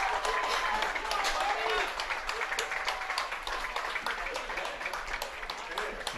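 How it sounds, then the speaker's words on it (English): Spectators at an amateur soccer match between The Villages SC and Lakeland Tropics clap faintly and scattered at a distance, with a commentator talking over them throughout. "As you hear the clapping"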